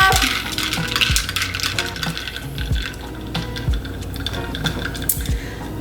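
Ice cubes clink and rattle against a cup as iced chai is stirred, a rapid, irregular series of bright knocks and jingles, close and fairly loud, with no talking.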